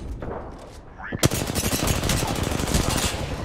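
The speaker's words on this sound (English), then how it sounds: "The enemies are shooting at me." Enemy gunfire in a battle royale video game: rapid automatic bursts start sharply about a third of the way in and continue loud and dense to the end, after a quieter lead-in.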